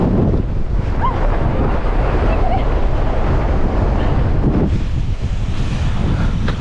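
A gale blasts up a gully in the Langdales, Lake District, a continuous loud roar and buffeting of wind against the microphone, briefly easing then surging again.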